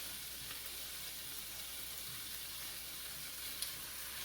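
Shrimp frying in a pan for Chinese-style fried rice, a soft, even sizzle at low level with a faint clink as the pieces are flipped, no talking.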